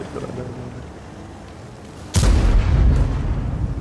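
A drift car engine with dropping fuel pressure revs repeatedly at Mondello Park, rising and falling in strong bursts, with a voice speaking over the loud motor.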